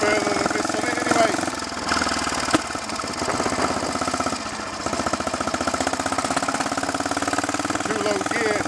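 A Royal Enfield Bullet 350 trials motorcycle engine chugs steadily in low gear, a close, continuous thumping drone with a brief surge near the start.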